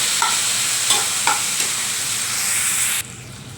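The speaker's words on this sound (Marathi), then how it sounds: "आता आपण यात टोमॅटो घालूया आणि याला पाच एक मिनटं चांगलं मंद आशेवर शिजू देऊया" Tomatoes go into a pan of fried onions and cook on a low flame, giving a steady close sizzle with a few light scrapes and clinks of stirring, no voices.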